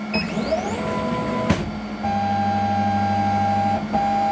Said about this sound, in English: I'm now going to run the autofocus, and you would expect the nozzle to sit on the surface and remain on the surface